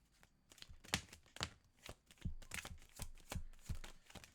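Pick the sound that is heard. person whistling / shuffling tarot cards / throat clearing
shuffling tarot cards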